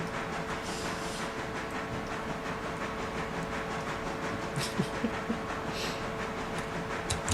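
A freight train of wagons with a caboose rolls along and slows, a steady low rumble with faint hiss and a few sharp clanks and clicks toward the end.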